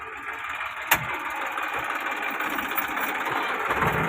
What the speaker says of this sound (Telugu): ఇదిగోండి ట్రాక్టర్లు అయితే వచ్చాయి